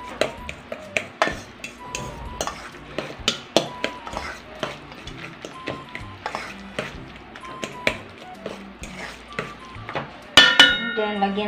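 A utensil stirs corned beef nugget mixture with egg in a bowl, giving a steady run of clinks and scrapes against the bowl, with a few sharper knocks near the end.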